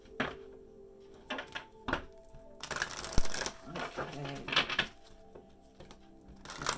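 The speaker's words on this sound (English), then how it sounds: "The shuffle this way is a big deck." A big deck of tarot cards being shuffled by hand, giving a series of crisp riffling snaps and soft taps, close and fairly quiet, with someone briefly speaking.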